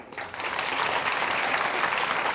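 A classroom of students claps steadily and loudly, the dense applause swelling quickly and holding on without any talking.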